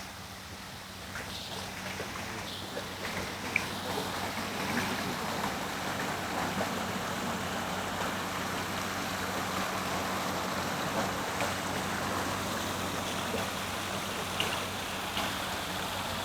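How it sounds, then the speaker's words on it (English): A water fountain splashing on a rainy day, a steady broadband wash of falling water and rain that continues evenly throughout with no talk. "we've got a fountain, right? I just love fountains."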